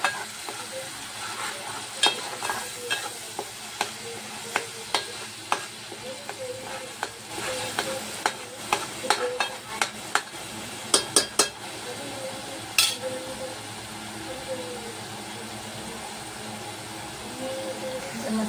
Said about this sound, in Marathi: आपण तेल व्यवस्थित सुटेपर्यंत भाजून घेऊया